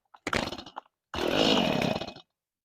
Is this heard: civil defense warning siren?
no